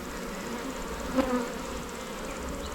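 Honeybees at an opened split box beehive hum in a steady, close swarm drone, with a single bee buzzing briefly past in the middle.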